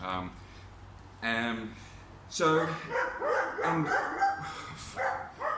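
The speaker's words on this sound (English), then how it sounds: "It wasn't the wind, it's now the dogs." Dogs bark and yip in several bursts, fairly close, with people talking over and between the barks.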